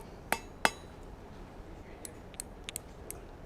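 Two sharp metallic taps of a hammer on a forged steel egg cup ring out close together, followed by several lighter clinks and ticks against a quiet background.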